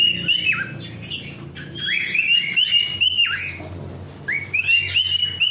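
A cockatiel sings close by in a loud, clear run of whistled phrases with upward and downward slides, repeated several times over a low background hum.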